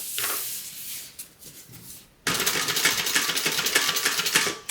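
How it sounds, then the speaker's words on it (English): A sewing machine top stitches the lining of a crossbody bag, starting with a quiet stretch and then a loud, steady run of rapid needle stitching for the last couple of seconds, close by. "I'm going to top stitch on the lining"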